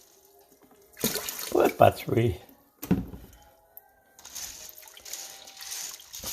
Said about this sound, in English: You cover them peas, black-eyed peas, with water.